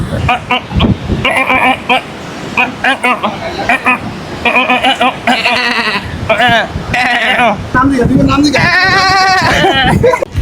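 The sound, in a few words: person imitating goat bleat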